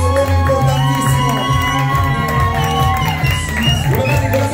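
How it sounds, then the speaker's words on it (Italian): A wedding crowd cheers and whoops, with clapping, for the bridesmaids and witnesses. The noise is loud and lively, with raised voices and tonal shouts mixed through it. "un grande, un grandissimo applauso per loro"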